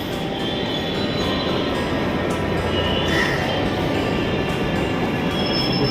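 A Delhi Metro train on the line toward Dwarka pulls into a station, its steady loud rumble and wheel noise filling the platform with faint squeals and people talking under it.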